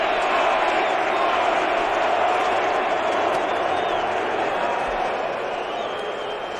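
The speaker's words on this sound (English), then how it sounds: "Listen to this crowd, will you?" Loud, steady roar of a stadium crowd at a 2015 NLCS Game 1 baseball game, a dense continuous wash of voices holding throughout at close range.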